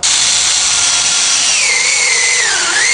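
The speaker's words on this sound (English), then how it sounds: "Yeah, I'm going to continue drilling" A power drill bores holes into wood for a rustic animal figure, one loud continuous whine whose pitch drops and wavers as the bit bites deeper, close up with no voices.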